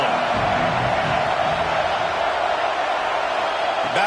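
Stadium crowd at a college football game between Dynasty and Michigan State, a dense, steady roar of cheering that fills the whole stretch, loud and continuous with a swell near the end.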